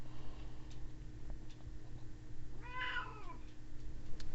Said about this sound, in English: this cat decides to meow the most when I want to record videos